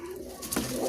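A pigeon of a prized breed gives a single brief, soft coo, faint and close, with no speech.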